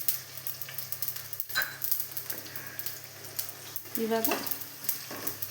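Chicken sautéing in a home-kitchen pan on a low-to-medium flame, a continuous close sizzle with occasional stirring scrapes and a brief spoken word.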